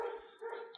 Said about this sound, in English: There is a dog going crazy outside